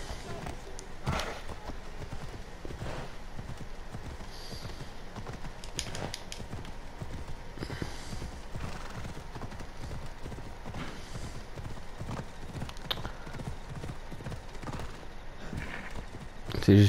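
Horse hooves clip-clop steadily through a third-person scene in Assassin's Creed Odyssey, a continuous close rhythm of hoofbeats at an even pace, with a brief whinny and game ambience around it and a voice speaking over parts of it.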